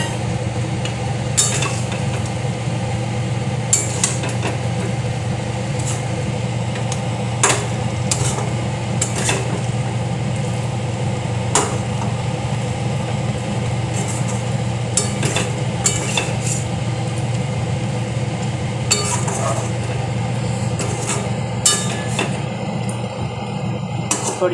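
Fried potatoes being added and stirred into a thick curry in a pan, with repeated scraping and clinks of a spoon against metal over a constant sizzle, a voice talking faintly in the background.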